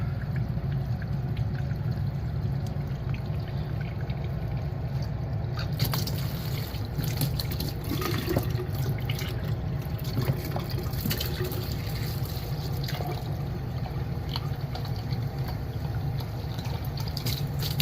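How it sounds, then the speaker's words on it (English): Dirty water from a reef tank filter drains in a steady trickle. The close, continuous pour and splash runs unbroken from start to finish. "I'm gonna run this in here and it's gonna run out all the dirty water"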